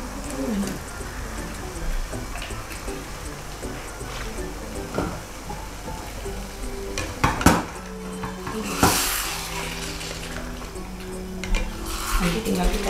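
Water poured bit by bit into a pan of spices while cooking chicken woku, with scattered clinks and scrapes of utensils against the pan and a couple of brief louder splashes, under intermittent background talk.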